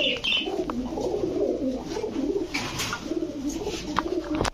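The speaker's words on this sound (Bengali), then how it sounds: "লাল খাকি পুরান জাতের, পুরান জাতের ভাই। একদম সেম সেম দর্শক দেখেন। আমরা এখানে পাইলাম 3 জোড়া কবুতর।" Old-breed red khaki pigeons coo in low, rolling bursts, close and continuous, with a few faint chirps from other birds mixed in.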